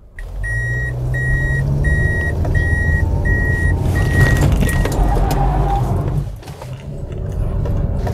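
A front-wheel-drive car performs a 180-degree J-turn in a driving training session: steady loud engine and tyre roar with a repeating electronic beep early on, then a brief dip and the engine building again.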